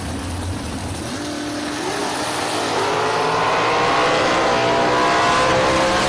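Race Tech dragsters at a drag race, a dense rising engine roar that builds steadily and grows louder throughout, with revving harmonics, heard from a distance and without speech.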